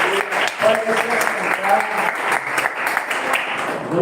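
Church congregation applauding, a continuous loud patter of many hands with voices calling out over it, close and unbroken throughout.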